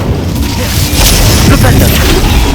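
In the Hogwarts Legacy video game, an Incendio fire spell is cast with a loud whooshing burst of flame and a booming rumble layered over game sounds.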